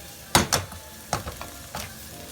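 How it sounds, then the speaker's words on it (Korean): Pork fat sizzles and spatters in a pan while duruchigi is stir-fried, with a low hiss broken by several sharp, close popping bursts. "고기에서 기름이 나가지고 파락파락 튀는 소리 나고요"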